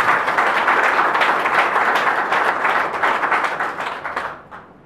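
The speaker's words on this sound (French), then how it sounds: "Sous vos acclamations," A crowd applauds loudly at a civil wedding in Gabon, dense steady clapping that carries on and then fades out near the end.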